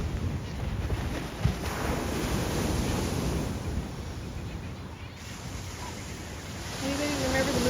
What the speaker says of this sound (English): Just a few feet away from the waves.